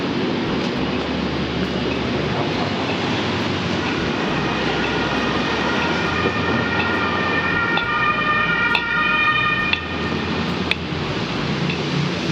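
A two-tone emergency vehicle siren on a Vienna street near the Hofburg Palace, rising over constant city traffic noise and growing clearer toward the end, with no talking.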